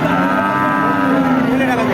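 Cows moo loudly and continuously at a cattle market, a low sustained bellow filling the whole stretch, with a faint murmur of a crowd and livestock in the background.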